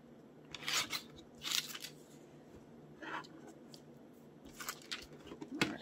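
Scissors snip through paper for a vintage scrapbook collage, a handful of quiet, separate cuts spread over a few seconds against a soft room hiss.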